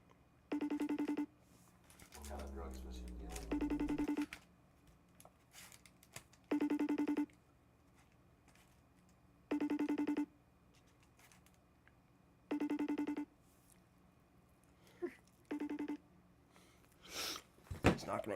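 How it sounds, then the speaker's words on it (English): A FaceTime video call rings during a Counter-Strike 2 session, sounding as five evenly spaced tonal ring bursts about three seconds apart, near and clear, with low voice and keyboard noise between them. "Let me try to FaceTime Aiden."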